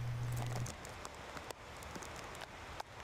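Heavy rain pours down steadily across the Inland Empire during a historic storm, a dense, even hiss of drops on surfaces with occasional sharper splashes and patters, close and continuous with no voices.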